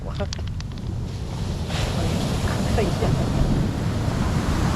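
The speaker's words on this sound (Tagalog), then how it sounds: "Habang nakatampay ka dito, dinig na dinig mo yung hampas ng dagat." Sea waves roll and crash onto an out-of-town shore in a steady, loud wash of surf, with wind buffeting the microphone throughout; a voice speaks briefly near the start.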